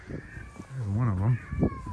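A cat meows in a drawn-out, wavering cry in Sirince, a small village in Turkey, with brief voices just before and after it.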